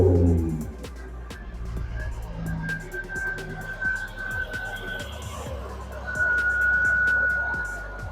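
SPAL electric radiator cooling fans, switched through a solid state relay, run on a car with a steady whirring drone and a thin, high whine. The sound stays continuous and moderately loud, with scattered faint clicks.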